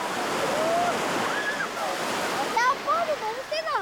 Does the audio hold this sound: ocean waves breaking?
yes